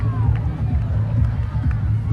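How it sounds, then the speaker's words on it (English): Spectators at a schools rugby match between Lumbini College and Piliyandala Central College, a steady babble of crowd noise with scattered distant cheers and no standout peaks. "Crowd, they are happy."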